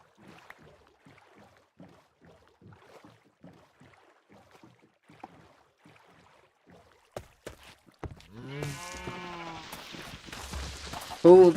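Sheep bleat in a Minecraft game: a quiet stretch of soft rhythmic taps gives way to several loud, close bleats with overlapping game noises near the end.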